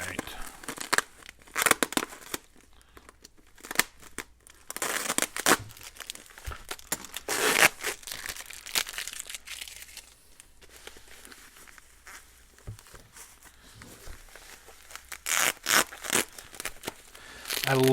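Packing material crinkles and tears in bursts of crisp rustling as an old-school Rockford Fosgate amplifier is lifted from its box, close and irregular, with scattered talk.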